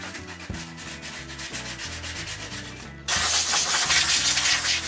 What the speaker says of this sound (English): I sand the side of the shelf and also the top.